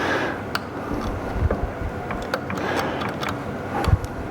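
A Macleods (Nelson Brothers) Model TA 1 3/4 HP stationary engine runs with a steady low chugging rumble, close and continuous, with a few brief knocks and some wind buffeting over it.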